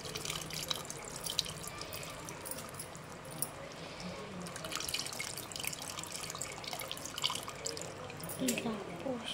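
Tamarind water, sweetened with sugar and jaggery, pouring into a pot for pappu charu, a steady liquid splash and trickle running throughout at moderate level over kitchen background noise.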